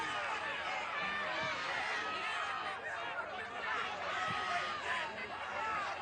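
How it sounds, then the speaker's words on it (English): A crowd at a Trump rally shouts and murmurs just after a shooting. The agitated babble is faint and distant, a steady wash of voices with occasional louder outbursts. "you can hear expletives from the crowd"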